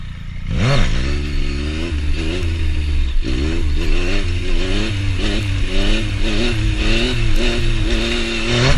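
A Yamaha FZ-09 motorcycle engine revs hard during a standing clutch-up wheelie in a bumpy parking lot, a loud sustained roar that rises sharply near the start, then holds and climbs through repeated pitch swells.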